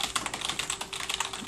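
Old computer keyboard typed on quickly, a dense, close run of clicky keystrokes with an uneven rhythm, faint and alone with no talk.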